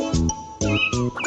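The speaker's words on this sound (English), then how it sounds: "had a cat, and Lucky was her name." Cat meowing in a children's song, three or four short, loud, close meows in quick succession, alone without singing.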